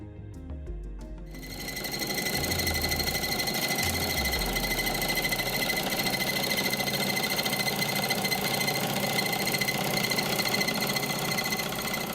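A miniature generator is driven by a flywheel through a drive belt, starting up after about a second into a steady, close mechanical whir with a fast rattling hum that holds constant, no talk.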